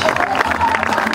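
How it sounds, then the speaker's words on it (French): An audience in Fronville gives a continuous wash of applause and crowd noise with murmured voices mixed in, steady and fairly loud throughout. "Sous vos applaudissements nourris"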